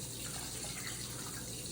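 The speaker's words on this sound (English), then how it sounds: "I have some cold water and I'm gonna pour it in with the milk" Cold water poured into a bowl of milk while making rainbow waffles, a steady continuous splashing gush heard close and alone, with no talking.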